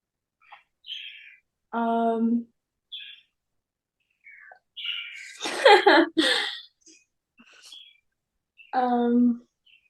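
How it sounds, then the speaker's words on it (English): A small bird gives sparse, high chirps and tweets with quiet gaps between them, alongside a few soft human sounds. "Since I hear a little bird in the background,"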